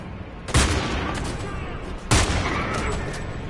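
Two loud, sharp gunshot bursts in a shooter video game, about one and a half seconds apart, each with a booming low thump and a ringing tail over steady background game noise.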